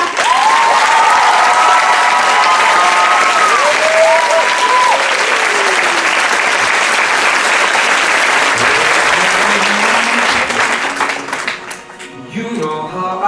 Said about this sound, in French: Veuillez faire un tonnerre d'applaudissements